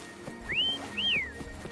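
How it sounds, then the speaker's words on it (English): Two rising-and-falling whistles call a horse-like mount named Foam in the video game Wuthering Waves, each lasting about a quarter second, clear and close over soft game ambience. "Try whistling."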